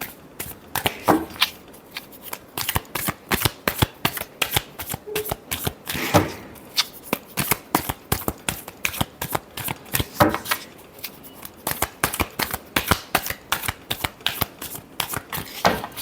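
Tarot cards being shuffled during a love reading, a continuous run of crisp riffling flicks and snaps in quick irregular bursts, close and clear, with no talking.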